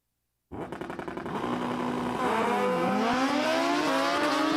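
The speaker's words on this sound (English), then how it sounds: "Lee Burgess, the Hayabusa in the left lane out of Canton, Pennsylvania" A Suzuki Hayabusa pro drag bike launches hard at Empire Dragway, its engine roaring loud and close with rapid rattling bursts, then climbing through sharp gear shifts as it screams down the strip.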